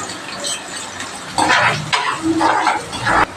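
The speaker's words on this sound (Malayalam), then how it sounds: "നമുക്കിനി ഉള്ളിയും കൂടെ ഇട്ട് നന്നായിട്ട് വഴറ്റിയെടുക്കാം" Onions stirred and sautéing in coconut oil in a pan, with curry leaves and mustard seeds already in; bursts of sizzling and clattering stirs come in several loud surges, close up, with no talking.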